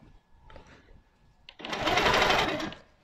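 A sewing machine stitches quilt-as-you-go strips, starting with a few faint mechanical clicks and then running steadily and loudly for over a second up close.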